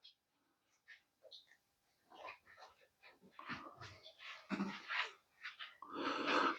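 A dog snuffles, sniffs and breathes heavily close by. The sounds start quiet and sparse, then come in louder, denser snorting bursts toward the end.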